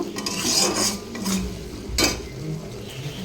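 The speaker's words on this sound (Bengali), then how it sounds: "মশলা দিয়ে দিলাম, হলুদও দিয়ে দিয়েছি। ভালো করে মশলাটা কষিয়ে নেব।" Spices, turmeric and fried onions are stirred in a pan, giving clinking and scraping of a utensil against metal in uneven bursts, with a soft sizzle underneath and no talk.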